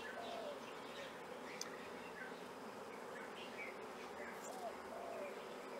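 Dense, steady buzzing of a large crowd of honey bees at an open hive in the tropics, holding close and even throughout, with a faint dove-like coo drifting in from the background.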